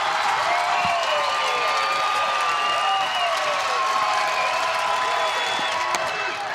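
A softball stadium crowd at an Oklahoma versus Texas game cheers loudly and continuously, with steady roaring and clapping filling the whole stretch at close range.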